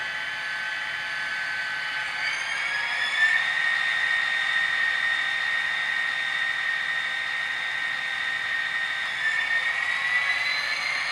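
An HO scale Bowser GMD SD40-2 model locomotive's diesel sound rumbles steadily, its engine pitch rising as the throttle notches up partway through, a continuous even drone with no talking.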